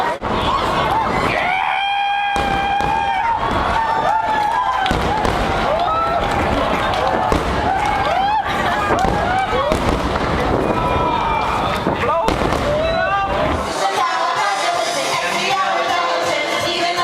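Fireworks burst over Tokyo Bay at a summer festival, with rapid overlapping bangs and rising whistles while a crowd cheers and shouts throughout.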